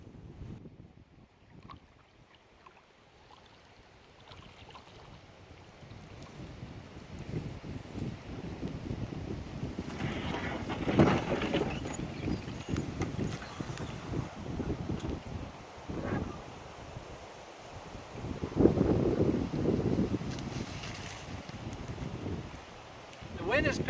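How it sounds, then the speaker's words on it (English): Wind blows over a lake during a long canoe trip on Crown land, a steady rushing hiss that swells into stronger gusts midway and near the end, heard close to the microphone. "The wind has picked up"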